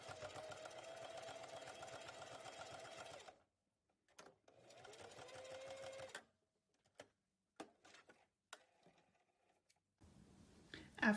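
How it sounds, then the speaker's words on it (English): A sewing machine stitches along the edge of fabric for a dog bow tie, with a steady whirring hum in two runs of a few seconds each, followed by scattered light clicks and handling sounds, all quiet. "we're gonna sew along the edge."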